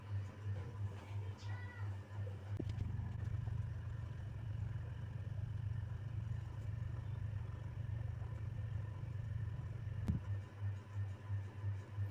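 Domestic sewing machine stitching lining onto blouse fabric, a steady close mechanical whir with rhythmic low pulsing that runs almost without a break, a brief clack near the start and again near the end.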